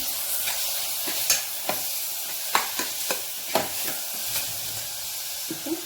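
Finely chopped tomato frying in a pan for tomato dosa, with a steady soft sizzle and a series of sharp stirring scrapes and taps, close and fairly quiet, with no talk.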